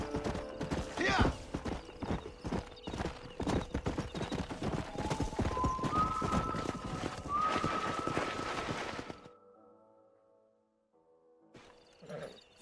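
Horses galloping in the Xbox 360 game Red Dead Redemption, rapid hoofbeats pounding alongside whinnies and a rising musical tone, then cutting off abruptly into near silence before a brief faint sound at the end.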